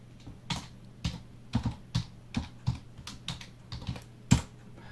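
Someone types on a computer keyboard in a web browser, producing a string of crisp, close key taps at an irregular pace with one harder strike near the end, and no voice.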